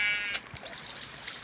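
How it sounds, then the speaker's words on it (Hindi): A goat bleats once outdoors in a rural survival setting, a short wavering call near the start, followed by faint trickling and rustling in the background. "अरे अरे अरे बकरी ऊपर जा रही है मेरे को लगा।"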